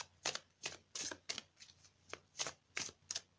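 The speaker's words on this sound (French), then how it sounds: "je vais couper le jeu" A tarot deck shuffled and cut by hand, about nine crisp rhythmic riffles and slaps at a steady pace, close and quiet with no voices.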